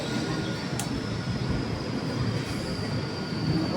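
A train at Diva station rumbles with a steady, loud roar of wheels on rails and a low droning bed, with a faint squeal and brief high clank briefly cutting through.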